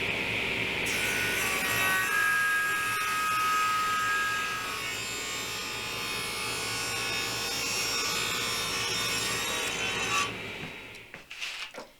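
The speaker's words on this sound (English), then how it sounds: "Here I'm cutting the legs in half and trimming off the other side to the thickness" Power saw cutting through wooden bench legs for a farmhouse table, a steady loud whine with grinding rasp running continuously for about ten seconds before winding down into a few clattering knocks.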